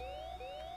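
Alarm siren in the Cybercop video game, a brief rising electronic wail repeating twice, moderately quiet and alone.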